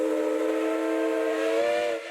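A steam traction engine's whistle blows one loud, sustained, steady tone with rich harmonics, holding for about two seconds before cutting off, heard at a steam show.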